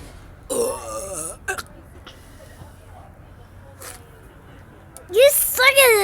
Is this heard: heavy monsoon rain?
no